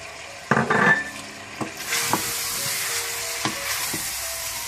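Ginger garlic paste sizzling in a hot pan for achari chicken, a steady frying hiss with several sharp clinks and scrapes of a spoon stirring against the pan, close and fairly loud.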